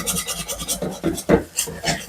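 Spatula stirring a Kerala mezhukkupuratti vegetable stir-fry in a pan, giving repeated close scraping and rasping strokes in an uneven rhythm with no talk.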